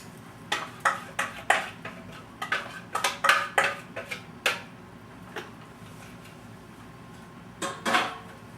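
A spoon scrapes and clinks against a casserole dish while cashew penne is stirred in a creamy sauce, giving a run of sharp, close taps and knocks in loose bursts, then a quiet pause and a final pair of clinks.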